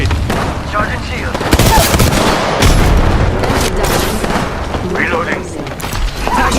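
Loud gunfire and booming grenade blasts erupt continuously in an Apex Legends battle, dense and close, with rumbling explosions layered over rapid shots.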